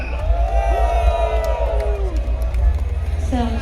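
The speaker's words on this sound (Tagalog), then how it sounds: "palakpakan na may kasamang sigawan for Francine Bendol!" A live crowd at a public gathering cheers and whoops loudly, with scattered clapping mixed into the sustained roar and a few voices shouting above it.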